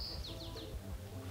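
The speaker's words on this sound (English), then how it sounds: "All I hear are the birds" Short, faint bird chirps on a quiet remote island in Washington, three quick descending tweets over low rumbling background noise.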